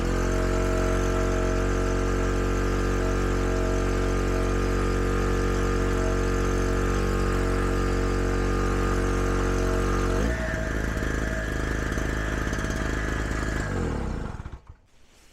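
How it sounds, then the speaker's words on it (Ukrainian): A two-stroke petrol generator engine runs at a steady, loud drone near the microphone. Its tone shifts about two-thirds of the way through, and it cuts off abruptly near the end. "Так як двигун тут двохтактний, то бензин потрібно заливати з маслом."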